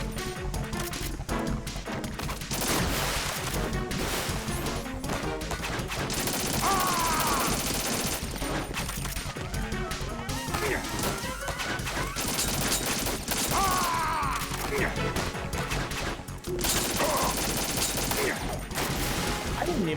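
Gunfire in Metal Gear Solid 2 comes in dense bursts of rapid shots with crashes and impacts, loud and busy, and a voice speaks intermittently.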